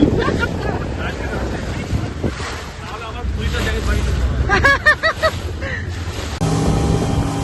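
A speed boat runs fast off Marine Drive in Mumbai, its steady engine rush mixed with wind buffeting and water splashing against the hull. Voices talk over the noise throughout.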